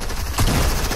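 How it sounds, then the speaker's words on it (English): A shotgun fires in a video game, one brief, loud, rough blast in the middle of a dense burst of combat noise. "I'm using a whole shotgun."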